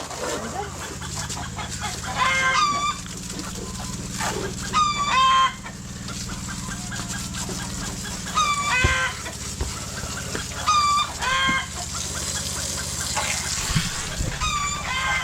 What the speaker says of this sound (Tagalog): Yung mga manok, tumilao ka na tumilao.